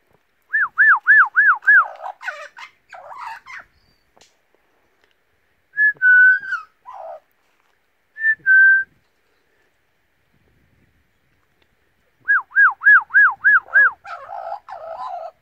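An Australian magpie whistles in rapid repeated rising notes, then single piping calls and warbling song, loud and close, coming in bursts separated by quiet gaps.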